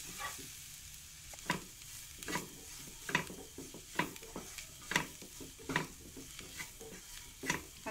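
Turmeric, masala and chili powders are sautéed in a pan for a beef dish, with soft sizzling and repeated scraping stirs at an irregular rhythm, close and fairly quiet.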